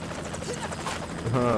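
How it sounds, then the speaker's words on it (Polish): A police helicopter in the video game Bom Voyage gives a steady whirring rotor drone with a brighter buzzing whine near the end, and someone talks over it. "a mogę złapać ten helikopter"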